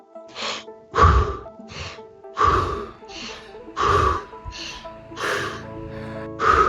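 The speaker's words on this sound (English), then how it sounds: "Exhale all the air out." Forceful rhythmic breathing during a breathwork exercise, with six loud, close, whooshing breaths spaced about a second apart, each a sharp inhale or exhale.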